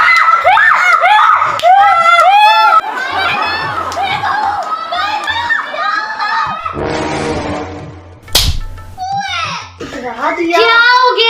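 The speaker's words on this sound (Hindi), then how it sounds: "क्यों चिल्लाई जा रहे हो दोनों?" A mother and her young son shout and scream loudly at home during a power cut, with shrill, overlapping cries and brief pauses between outbursts.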